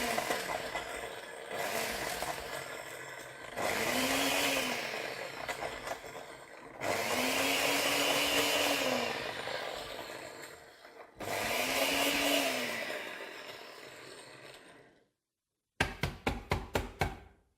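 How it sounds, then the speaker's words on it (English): Liquidizer blending cannabis with solvent, running in three loud bursts of about three seconds each with a whirring motor pitch that rises, steadies and falls, separated by short pauses and followed by a few quick knocks. "So what I generally do is just give it a quick mix in a liquidizer"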